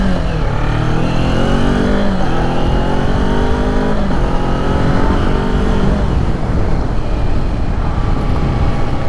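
A 2020 Kawasaki Z400 motorcycle engine runs loud and close, revving up through rising pitch sweeps and shifting repeatedly, steady and without talk.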